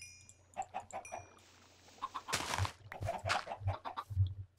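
Several Minecraft chickens cluck and squawk in short bursts, fairly close, with brief gaps between calls and a low steady hum underneath.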